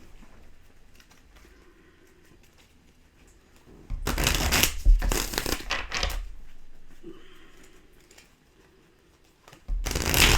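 Tarot animal cards being shuffled, with quiet handling rustles followed by a loud riffling burst lasting about two seconds and another brief shuffle starting at the end.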